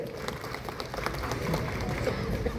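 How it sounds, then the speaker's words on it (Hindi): Audience applause welcoming the industry minister at a state handloom and SARAS fair on a stage at Morabadi ground, Ranchi; steady, dense clapping from a large outdoor crowd throughout, with some murmur mixed in. "तालियां जोरदार हो स्वागत स्वरूप"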